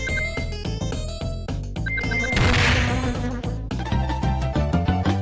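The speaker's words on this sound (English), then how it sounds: "God damn those fucking bees! Oh, those bees!" Insect-like buzzing woven into loud, busy music with a steady beat, building to a brief noisy swell midway before the music carries on.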